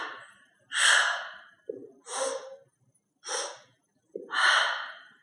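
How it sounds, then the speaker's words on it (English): Forceful Pilates breathing on a mat class, four strong separate breaths, each a sharp sniff-like intake then a longer gusty release, close and clear with silent gaps between. "Inhale, inhale, exhale, exhale, inhale, inhale, exhale, exhale."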